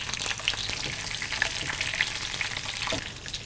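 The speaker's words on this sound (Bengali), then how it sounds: "এবার ঢেলে দিলাম ওকে আমরা ভাজা ডাকগুলো হ্যাঁ হাঁসের ভাজা টুকরোগুলো আমরা দিয়ে দিলাম" Pieces of fried duck sizzle in a hot pan, giving a steady, dense crackle that holds close and fairly loud throughout with no voices.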